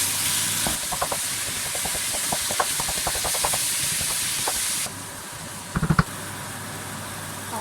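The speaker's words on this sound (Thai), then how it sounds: "เสร็จแล้วเราก็ผัดนะคะ ผัดจนเนื้อเริ่มสุกนะคะ" Ground beef stir-fries in a pan for a Swedish-style mushroom meat sauce lasagne, a steady loud sizzle with repeated scraping and clicking of a utensil against the pan, quieter after a few seconds before a final cluster of clatters.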